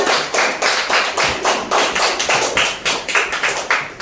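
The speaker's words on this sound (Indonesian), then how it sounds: "Beri tepuk tangan anak-anak" Fourth-grade children in a classroom clap together in a rhythmic pattern, about a dozen loud, evenly spaced bursts of group clapping close by, with no talk over it.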